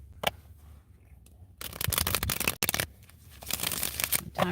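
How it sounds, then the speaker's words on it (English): Tarot cards riffle and slap in quick bursts of papery shuffling, close up, with a few short pauses between rounds. "I'm shuffling for your reading, Shivani."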